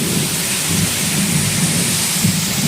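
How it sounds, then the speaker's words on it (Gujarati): Heavy rain pours down steadily with thunder rumbling, a dense loud hiss over a deep continuous rumble with no pauses. "એટલી વીજળી થાય છે અને વરસાદે બહુ આવે છે."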